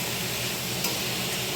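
Potatoes and pointed gourd fry in a pan with a steady, even sizzle that holds at a constant level throughout, with no talk over it.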